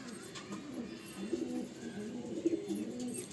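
A red male pigeon with a black tail and white markings on its head coos softly in low, rolling phrases, faint and close with no talking.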